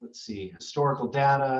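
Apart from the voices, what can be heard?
No everyday noise stands out behind the speech.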